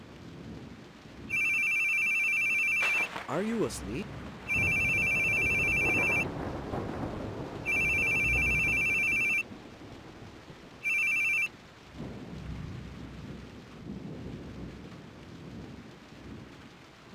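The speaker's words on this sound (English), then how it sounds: "Your phone's ringing." A telephone rings in four electronic bursts, close and loud, while rain and rumbling thunder fill the background and a voice speaks briefly.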